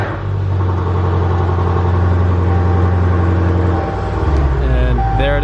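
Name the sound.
car engine starting up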